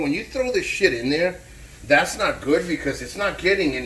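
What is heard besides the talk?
None of the usual background noises is heard.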